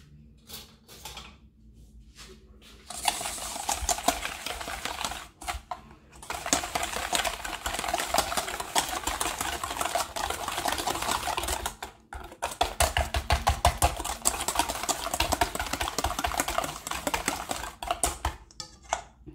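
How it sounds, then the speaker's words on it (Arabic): Cake batter of citrus zest, vanilla and sugar being mixed in a bowl for a coconut-flavoured harcha, a steady busy whisking and clattering that runs almost continuously for nearly twenty seconds with a few short pauses, no voices. "غادي نخلط المكونات"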